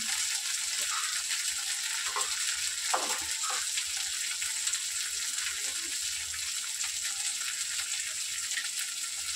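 Spices fry in oil in a home kitchen pan, a continuous close sizzle with occasional faint stirring scrapes and no talking.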